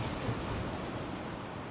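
Ocean waves wash onto a rocky, sandy shore as a steady, broad roar with no distinct individual crashes, continuous and fairly loud throughout with no talk.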